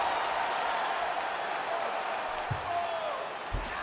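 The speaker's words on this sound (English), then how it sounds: "big pop from the crowd as they get back to their feet" A large arena crowd at a UFC event roars steadily in a broad, sustained wash of cheering, with a couple of faint thuds near the end.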